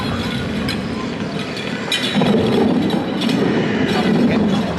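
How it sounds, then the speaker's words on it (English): Onboard a train ride at Blackpool Pleasure Beach, with a steady loud rumble and rattle of the cars running along the track throughout, no talk. "We're back on the train again."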